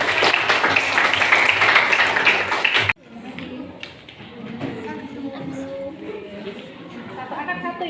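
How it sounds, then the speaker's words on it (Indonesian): Pupils in a classroom give a short burst of loud, dense clapping that stops abruptly, then excited voices and classroom chatter follow. "Kita beri tepuk tangan ya."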